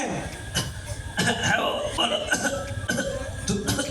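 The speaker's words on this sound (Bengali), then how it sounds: "আপনার কি কাশি হচ্ছে" In a comedic family sketch, an elderly man coughs several times in rough bursts, mixed with people talking and chuckling.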